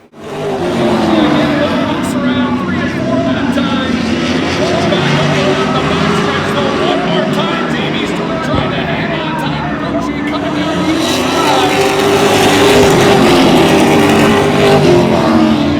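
Race cars run side by side on the Oyster Bed Speedway oval, a dense, continuous roar of engines that swells louder toward the end, with crowd noise and talk blended underneath.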